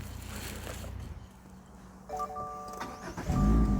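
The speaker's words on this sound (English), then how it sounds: "Car starts." A salvage car's engine cranks and catches, then settles into a low idle with a chime tone, and the revs rise near the end, recorded close up at a vehicle auction yard.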